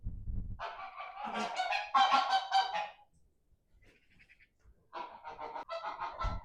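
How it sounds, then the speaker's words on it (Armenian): Brooding geese sitting on eggs give loud, close, raspy honks in two bursts with a quieter hissing pause between them. "Այս էլ մեր անպիտան սագերը, որ անիմաստ ժամանակ են անցկացվում ձվի վրա"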